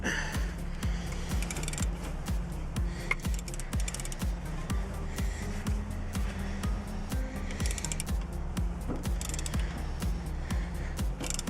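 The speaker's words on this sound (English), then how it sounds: "take your 19 mil wrench, put it on the other side, like so, and crank at it" Ratchet wrench with a 19 mm socket cranking a strut bolt on a 2003 Toyota Corolla front suspension, giving steady rapid clicking throughout at close range with mechanical rattles and no speech.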